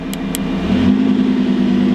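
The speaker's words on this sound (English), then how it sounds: "Hear the exhaust open up a little bit." A Lamborghini fitted with a Ryft exhaust revs in Corsa mode, a short blip of throttle swelling into a steady low growl that holds loud and close to the end, with no voices over it.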